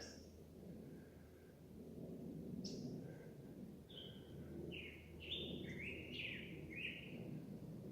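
Short, high bird chirps and whistles repeat over a steady low background rumble, with no talking.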